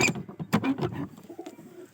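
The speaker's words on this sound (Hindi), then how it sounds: "देखो भाई कितने शानदार कबूतर" Pigeons cooing nearby, soft throaty warbling calls repeating in quick succession with a quieter coo trailing off.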